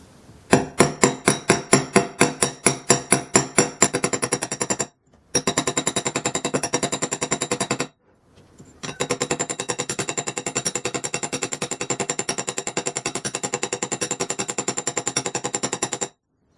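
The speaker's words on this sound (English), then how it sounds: "let's hammer this piece of wire" The flat side of a hammer strikes wire in rapid, sharp, evenly spaced blows, close and loud, continuing in long bursts with two short pauses.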